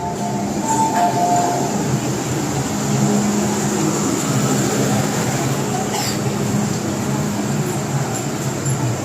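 An MTR M-train runs on Hong Kong's Island Line, heard from inside the car as a steady loud rumble of wheels on rail with faint squeals and clicks, under recorded platform announcements.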